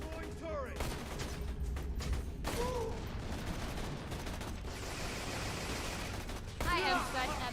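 A deployed turret in the Borderlands video game opens fire, giving dense, sustained bursts of rapid gunfire layered with sharp game effects and a brief rising electronic chirp near the end.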